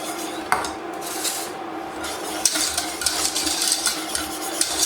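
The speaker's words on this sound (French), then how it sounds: "Ensuite, je vais mettre à feu moyen et je vais mélanger." Lemon curd mixture for a lemon tart being stirred continuously in a saucepan over medium heat, with a spoon scraping and clinking against the pan in irregular strokes, close and steady, with no talking.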